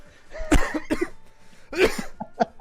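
A few harsh, close coughs in quick bursts, with throat-clearing rasps between them.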